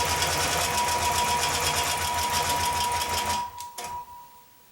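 A longarm quilting machine stitches binding onto a quilt, running in a fast steady rhythmic chatter for several seconds before stopping, followed by a couple of faint clicks.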